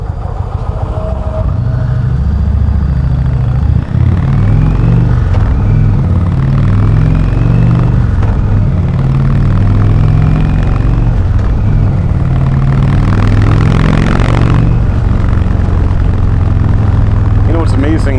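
The 111 engine of a 2019 Indian Chieftain Limited motorcycle, which has rear cylinder deactivation, pulls steadily as a deep, loud, continuous rumble that rises through the revs, heard up close with a person talking over it.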